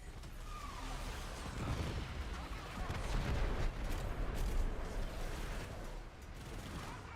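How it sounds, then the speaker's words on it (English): Missile volley fired in the video game Warframe, a dense rumbling barrage of overlapping booms and crackling blasts that stays loud and continuous for several seconds. "I'm activating missile volley"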